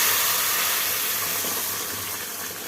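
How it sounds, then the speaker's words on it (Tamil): Ground spinach paste hits hot oil with mustard seeds for palak paneer, a loud steady sizzling hiss that fades slightly as it settles. "இப்போ நம்ம அரைச்சி வச்சதை ஊற்றிக்கலாம்"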